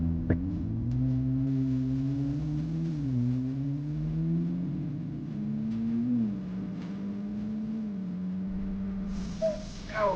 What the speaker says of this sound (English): The turbo sound!